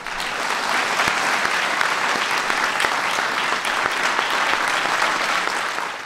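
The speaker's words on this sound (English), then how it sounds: "Please give them a big round of applause" Sustained audience applause at a Medal of Honor ceremony, a dense, steady wash of many hands clapping at even loudness for the full stretch before tapering slightly at the end.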